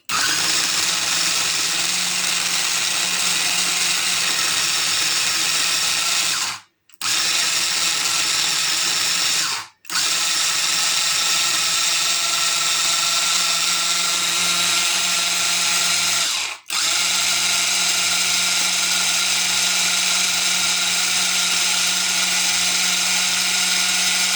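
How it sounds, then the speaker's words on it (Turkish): A kitchen food processor whirs steadily while chopping menemen ingredients, a loud continuous motor drone that stops briefly three times before starting again. "Bismillahirrahmanirrahim diyerek robotumu çeviriyorum."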